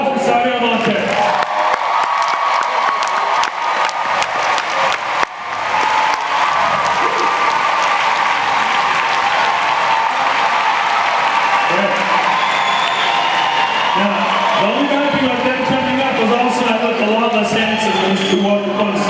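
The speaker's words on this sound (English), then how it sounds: "Please help me bring to the stage with a humongous round of applause." A large audience at a coaching event gives a long, loud round of applause and cheering as two coaches walk onto the stage. The clapping is dense and sustained, with whoops over it and some voices mixed in.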